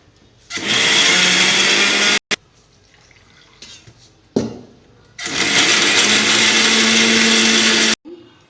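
A mixer grinder grinding cumin and dried chillies whirs loudly in two long bursts separated by a quiet pause with a few clicks and clatters.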